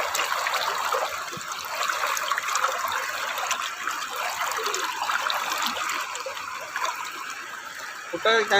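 Floodwater rushes past a breached road in Eral, Thoothukudi district, in a continuous, broad roar, a steady strong flow with faint voices in the background.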